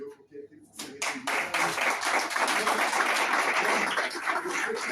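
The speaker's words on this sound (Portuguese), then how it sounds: "Aplauda o Senhor" Congregation clapping during a Portuguese-language church service, beginning with a few scattered claps and quickly building into loud, sustained applause, with voices heard underneath.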